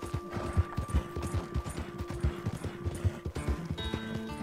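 Horse hooves pound in a quick, steady galloping rhythm, close and fairly clear, with a faint mechanical hum running underneath; a Mahogany Bay Tennessee Walker in Red Dead Redemption.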